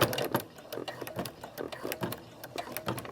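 Sewing machine stitching an invisible zipper onto a quilted throw pillow, its rapid rhythmic needle clatter running steadily at close range, with someone speaking over it.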